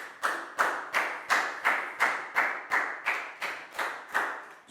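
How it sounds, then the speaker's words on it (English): A Year 4 maths class claps together for a student in a steady, even rhythm of about ten sharp, fairly close claps. "a big round of applause for Pak Bung"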